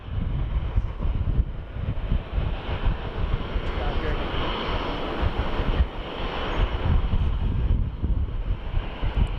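A Virgin airliner taxis into its gate at Sydney Airport, a steady broadband jet engine rumble with wind buffeting on the microphone, continuous and fairly close throughout.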